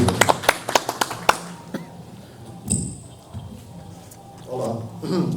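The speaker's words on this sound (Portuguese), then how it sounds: "Uma salva de palmas aí para os nossos convidados" A small audience gives a quick burst of sharp, separate claps in the first second, then the clapping stops and voices and room noise take over.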